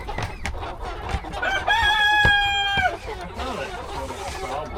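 White roosters and chickens in a dirty straw-lined pen cluck and squawk, with one clear crow rising in the middle, close and fairly loud over scattered scratching and rustling.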